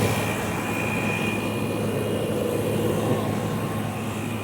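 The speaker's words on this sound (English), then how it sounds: "When you turn on that unit, that fan motor sounds pretty awesome, huh?" The fan motor of a Hisense 12000 BTU window air conditioner runs on ambient air with no cooling. It makes a steady, close, loud whirring drone that holds even for a few seconds, with no voices.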